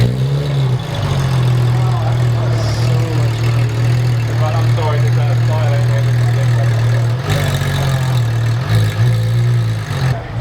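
A loud car engine idles steadily at a Cars and Coffee meet, a deep, constant rumble with slight surges, heard close up while people talk over it.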